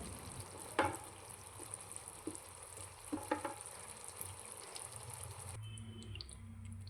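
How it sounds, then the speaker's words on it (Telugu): Taro root curry stirred in a pan: a faint, low sizzle under a few soft scraping and clinking stirs, quiet and close. "చామదుంపలు వేసుకుని ఈ విధంగా కలపాలండి"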